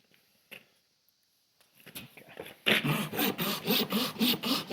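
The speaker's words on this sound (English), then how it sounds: "We'll show that same view after I'm done rasping and see how that hoof matches." A farrier rasps a horse's hoof during hoof dressing, a close scraping rasp in quick repeated strokes that starts softly after a near-silent stretch and then grows loud and steady.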